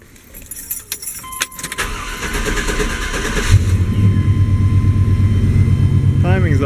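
A car engine starts and idles after distributor timing work, a steady low rumble that builds and holds after a few seconds of clattering, jangling handling noises nearby.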